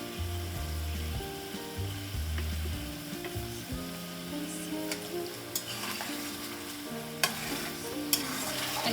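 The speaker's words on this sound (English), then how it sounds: "now we need to fry this good 5 to 8 minutes till all the masalas are nice and cooked" Ground masala of turmeric, coriander powder, red chili powder and salt frying in a pan for chicken karahi, a steady close sizzle with repeated scraping stirs and a few sharp clicks of the utensil against the pan.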